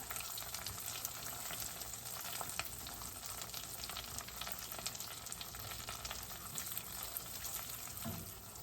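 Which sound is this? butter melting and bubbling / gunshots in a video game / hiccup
butter melting and bubbling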